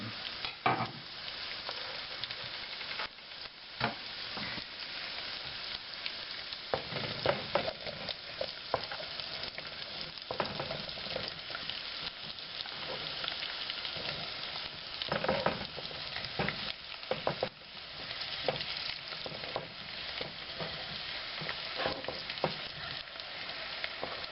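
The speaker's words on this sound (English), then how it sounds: "Okay, the onions are soft, so it's time to put the potatoes in." Potatoes go into softened onions frying in a pot for potato soup, bringing a continuous close sizzle with repeated stirring and scraping and bursts of louder crackle as pieces drop in.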